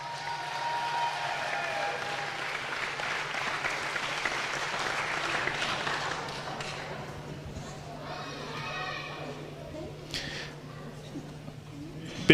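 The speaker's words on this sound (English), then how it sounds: "Big round of applause for our Youth C female speed finalists." An audience at the Australian National Youth Championships speed finals applauds the Youth C female finalists with steady, fairly distant clapping that fades toward the end.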